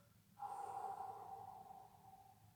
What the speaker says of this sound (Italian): Inspiro, espiro.